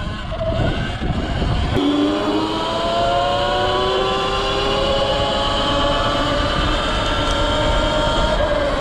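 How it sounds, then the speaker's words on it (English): A front brake on a silent electric pit bike squeals loudly and without a break, a shrill layered whine that slides slowly in pitch over rumbling ride noise, close up, with no talking. "Front brake makes a funny noise now."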